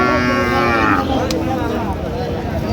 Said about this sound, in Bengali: মাংসের গরুগুলো কিনছেন মাজারুল ভাই।